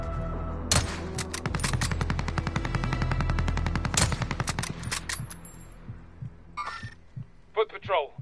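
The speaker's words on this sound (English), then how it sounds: "He's shooting, that sniper's shooting there." Rapid gunfire rattles in Call of Duty Warzone, with dense bursts of shots close by and under voices, then fading to scattered cracks as players talk over it.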